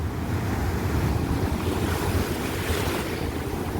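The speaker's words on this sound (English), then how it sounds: "But the waves are huge out there today." Large ocean waves crash and roar steadily on the shore at Flagler Beach, Florida, a loud continuous surf wash with wind buffeting the microphone throughout.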